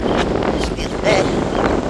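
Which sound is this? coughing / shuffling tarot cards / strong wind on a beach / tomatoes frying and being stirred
strong wind on a beach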